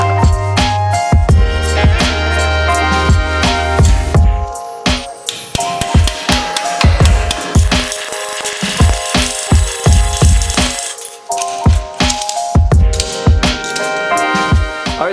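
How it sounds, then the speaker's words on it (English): Sheet metal being cut for a patch panel on a turbo 1968 Chevy C10 build, a loud close power tool whining steadily with rapid rattling bursts and sharp metallic clanks throughout. "So I'm going to go ahead, cut this out of metal"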